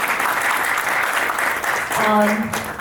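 A press-conference crowd applauds a singer with steady, even clapping, and a voice rises over it near the end.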